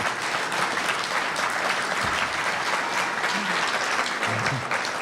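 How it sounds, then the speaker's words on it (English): An audience at a golf hall of fame induction speech applauds, a dense, sustained clapping close and fairly loud, steady throughout with no voices breaking through. "if you need to applaud, and I hope you do, applaud real loud"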